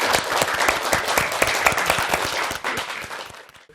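Studio audience applauding a guest on a morning talk show, a dense steady burst of many hands clapping close and loud for a few seconds before tapering off.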